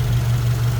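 A 2024 Subaru WRX RS engine idles smoothly at close range, a steady low hum with an even pulse and no irregular knocks, running on its own throughout.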